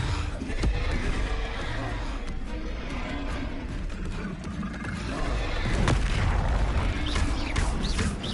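Confringo explosion spell in a Hogwarts video game, loud booming blasts and impacts amid dense combat noise, with several sharp bursts spread across the clip.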